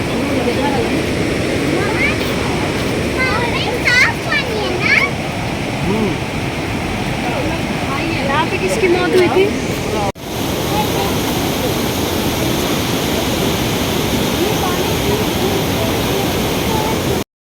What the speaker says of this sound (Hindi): ये रिवर एकदम दूधिया मतलब वाइट कलर का पानी था इस तरह से और इतनी तेज़ बहाव में ये बह रहा था